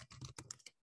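Rapid keystrokes on a computer keyboard, a quick burst of close, crisp clicks for under a second, then silence.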